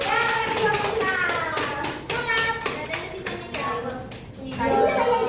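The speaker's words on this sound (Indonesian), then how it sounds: "Terima kasih tepuk tangan dulu." Listeners applaud at the end of a talk on basic therapeutic communication, clapping in a quick, rhythmic beat of sharp claps with young voices calling out over it.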